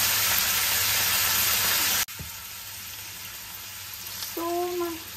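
Shrimp frying in a pan with garlic, a loud steady sizzle for about two seconds, then a quieter, softer crackle with faint clinks toward the end.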